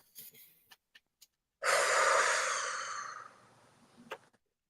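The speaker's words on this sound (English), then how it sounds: "So if you will take 3 deep breaths, as we always do. Inhale and hold." A single deep breath drawn in slowly through the nose and mouth, close and clear, preceded by a few soft small sounds and ending in a brief catch.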